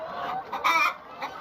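Laying hens clucking on a Jamaican poultry farm, several close, short clucks rising and falling over about a second and a half, with no talk.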